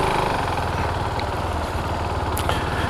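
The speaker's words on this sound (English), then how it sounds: "So you hear the gurgle." A 2016 KTM 690 Duke single-cylinder motorcycle engine gurgles steadily at idle, a continuous loud low throb heard up close with no talking.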